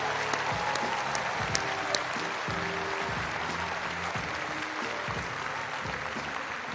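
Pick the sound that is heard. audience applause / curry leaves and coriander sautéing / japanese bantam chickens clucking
audience applause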